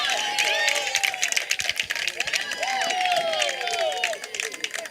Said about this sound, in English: And you hear that crowd because that's the Mustangs' first hit